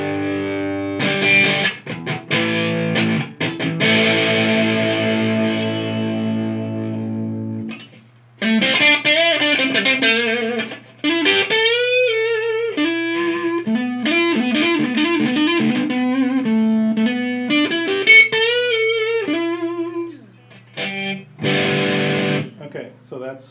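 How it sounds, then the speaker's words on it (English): Electric guitar played through a distortion pedal, a sustained crunchy chord ringing out, then bending lead notes and riffs with a thick, creamy high end. "here is the distortion"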